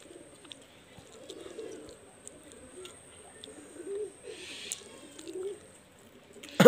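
Pigeons, Pakistani high-flyer Teddy birds kept in a loft with many young, coo softly in low, repeated phrases, faint and moderately near, with occasional small clicks and a brief rustle.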